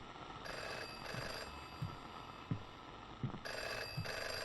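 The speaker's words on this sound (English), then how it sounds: "Phone's ringing." Telephone ringing in the indie horror game FM, repeated electronic ring bursts in a steady pattern with faint footsteps between them, fairly quiet.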